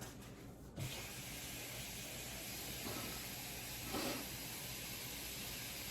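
Sauce for chile rellenos simmers in a pot as a steady, soft hiss with faint bubbling, and a slightly louder gurgle rises briefly toward the end.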